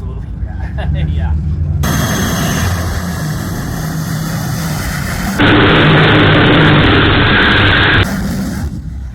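A farm truck fitted with a jet engine and afterburners roars steadily and loud, with a broadband blast that surges even harder mid-clip before easing back; voices talk over the din.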